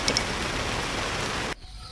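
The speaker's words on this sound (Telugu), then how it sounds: "ఇలా వర్షం పడుతుంటే మనం వాకింగ్ ఎలా చేస్తామండి?" Steady rain pours down continuously and close by, a dense even hiss that cuts off abruptly near the end, leaving near silence.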